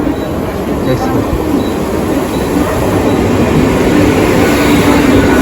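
A Mumbai local train pulling into a station, bound for Dadar; a loud, continuous rumble of wheels and carriages grows slightly heavier as it comes close, with no clear speech over it.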